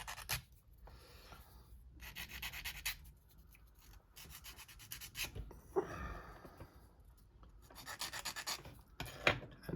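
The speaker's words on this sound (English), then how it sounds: "And just take them burrs off again." Small burrs are filed off a part from a Rolife Tower Bridge model kit in short, close rasping strokes that come in repeated bursts separated by quiet pauses.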